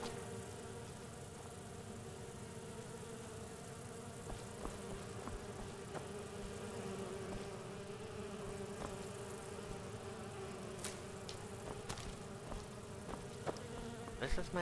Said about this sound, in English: Come here, bee. Floaty thingy.